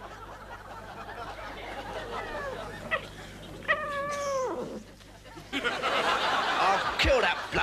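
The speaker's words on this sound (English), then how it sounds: "I'll kill that bloody cat." A cat meows and yowls in a few rising, wavering cries in the middle of the stretch, set against a background of hum and studio noise with a short burst of laughter near the end.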